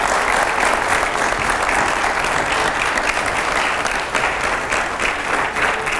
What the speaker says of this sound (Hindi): मैं चाहूँगा ज़रा ज़ोरदार तालियां हो पहले हमारे रैपिड फायर राउंड के लिए